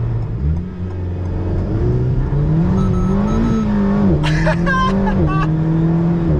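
A lightweight sports car engine runs steadily up close, firmly chassis-mounted behind the cabin, a deep continuous rumble that rises slightly in pitch, with a brief high mechanical whine near the end.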